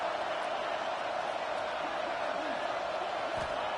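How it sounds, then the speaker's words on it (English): A home crowd roars at a football game in the video game College Football 26, a continuous and fairly faint wall of noise with possible voices underneath. "this crowd really affecting the football game. You can barely hear yourself think"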